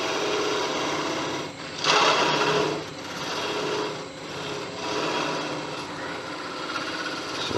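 A wood lathe spins a teak carrot for a snowman, giving a steady, close, high-pitched motor whine. A tool cuts in and out in repeated passes, each adding a swelling rasp. No one speaks.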